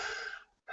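A patient drawing a deep breath during a lung exam, one close, airy inhale that fades out, followed by the start of another breath.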